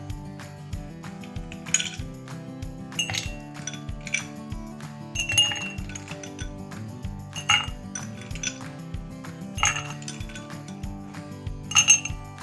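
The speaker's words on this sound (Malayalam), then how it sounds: "ഈ ഗ്ലാസ്സിലേക്ക് നമുക്ക് ഐസ് ക്യൂബ് ഇട്ട് കൊടുക്കാം." Hard ice cubes clink and rattle against a glass for dalgona coffee in a series of bright, irregular knocks, over a steady low hum of music.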